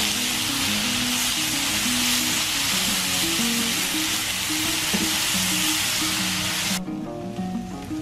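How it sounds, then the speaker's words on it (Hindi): Chickpeas roast in a hot pan for halwa puri, a steady loud sizzle and frying hiss running throughout with faint stirring, the hiss dropping off sharply near the end. "अब ये चने जाएंगे इसके अंदर। अब इसको 5 मिनट भून के दम पे रखेंगे।"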